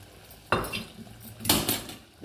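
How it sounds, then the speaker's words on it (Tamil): Metal utensils clink and scrape against a pan while cashews and cardamom are tempered for sweet porridge, two sharp bursts of clatter standing out over a quieter kitchen background. "முந்திரி ஏலக்காய் தாளித்து போடுவோம் இப்போ நம்ம தாளித்து விட்டுக்குவோம்"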